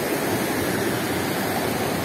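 Rushing water of the Los Siete Chorros waterfall in Yecuatla, Veracruz, a dense, steady roar filling the scene with no pauses.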